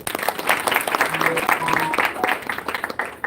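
Audience clapping during a Ramayana storytelling talk, a dense patter of many hands, moderately loud, with some voices and tonal sounds mixed faintly underneath.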